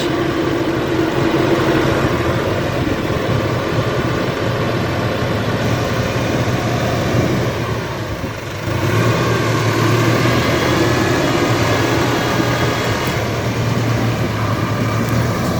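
Landini 100 tractor engine runs steadily outdoors during irrigation canal work, a continuous loud mechanical drone with a brief dip partway through and no speech.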